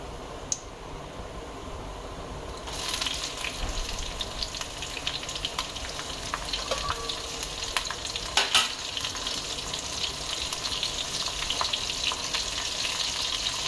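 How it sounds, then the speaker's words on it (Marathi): Green chillies drop into a hot cumin tempering, and the oil bursts into loud, continuous sizzling and spluttering with scattered pops and stirring scrapes that carry on steadily. "जिरं फुटायला लागलं की मग ह्या मिरच्या आहेत त्या आपण घालायच्या ह्याच्यामध्ये"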